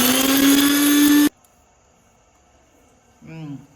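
A kitchen mixer grinder whirring loudly as it grinds masala for paneer, running steadily for about a second before cutting off abruptly, followed by quiet and then a short voice.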